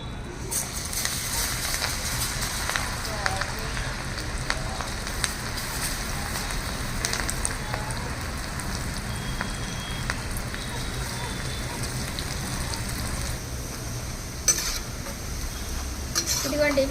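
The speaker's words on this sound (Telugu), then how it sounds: "పకోడీ ఇలా కలుపుతూ ఉండాలండి ఎందుకంటే ఒక చోట వేగుతుంది ఒక చోట వేగదనమాట" Multigrain pakodi sizzles steadily in hot oil while being stirred in a pan, a continuous frying hiss with occasional scraping and clinks, and a voice talks over much of it.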